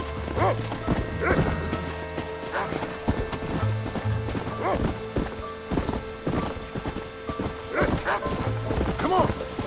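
Horse hooves clip-clopping at a steady trot or gallop through the Red Dead Redemption video game, with recurring whinnies, creaking tack and a man urging the horse on to a dog named Rufus.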